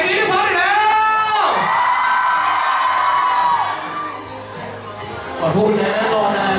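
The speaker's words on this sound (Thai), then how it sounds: "ขอเสียงกรี๊ดให้พร้อมเลยแล้ว" A loud crowd at a graduation gathering screams and cheers with high-pitched whoops, dipping briefly before surging again near the end.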